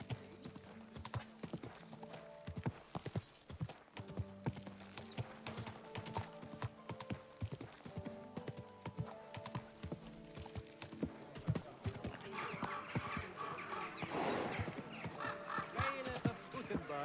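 Horse hooves in the medieval video game Kingdom Come Deliverance 2 clip-clop in a steady, continuous rhythm, with an occasional whinny and voices talking over the hoofbeats.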